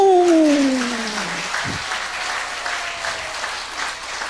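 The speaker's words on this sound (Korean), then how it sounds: "박수!" An audience at a church gathering breaks into steady applause that follows a descending tonal sound at the start, a dense wash of clapping hands that holds through the rest of the moment.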